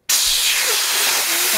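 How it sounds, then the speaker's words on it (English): An air compressor running with a loud, close, steady rush of hissing air that starts abruptly and continues without a break. "And we've got to use the air compressor now."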